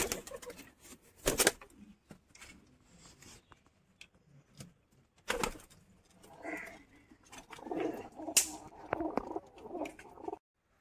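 Native Bengali pigeons, including a single male, cooing softly in a home loft, with a few low, muffled coos scattered between scuffling and rubbing noises; no talking.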